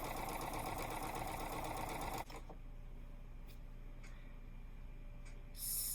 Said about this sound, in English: I can feed this point underneath the presser foot. and make my 1/4 inch seam.